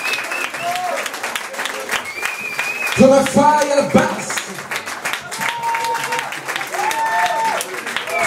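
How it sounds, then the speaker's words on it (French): Applause and cheering from a club audience at a live concert, with someone talking over it and brief keyboard chords sounding in the middle. "Un applaudissement aux filles au clavier."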